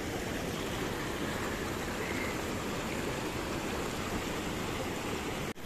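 The Atik cascades waterfall in Morocco gives off a constant broad rushing roar of falling water, steady and close with no break until a brief cut at the end.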